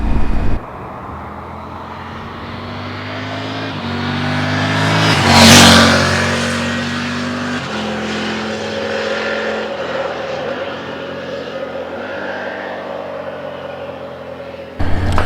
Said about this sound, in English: But what a bike. I'm thoroughly enjoying riding this